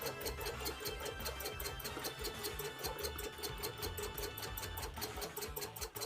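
A sewing machine stitches steadily in quick, regular needle strokes, a dense mechanical chatter running the whole time at moderate, close level while working on embroidered art of a Final Fantasy IX Vivi figure.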